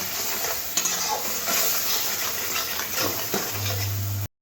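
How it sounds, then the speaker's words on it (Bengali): Spice paste with coriander powder, cumin powder and water sizzles and hisses in a pan while being stirred, with occasional scrapes of the spoon, steady and close until it cuts off abruptly. "অল্প একটু ধনের গুঁড়ো আর জল দিয়ে মশলাটাকে খুব ভালো করে কষে নেব"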